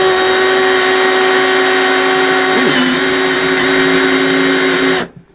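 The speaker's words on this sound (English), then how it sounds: "I'm just going to go in with my drill and I'm going to drill right through them" A power drill whines steadily as it bores through thin plastic garden pots during transplanting, a loud continuous motor tone with a brief dip partway, then cutting off abruptly at the end.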